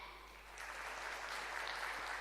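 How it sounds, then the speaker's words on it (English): Conference audience at a congress clapping hands to vote on a choice, a soft distant patter of applause that swells after a quiet start and holds steady, with no speech over it. "clap your hands so I get a sense of what your vote is"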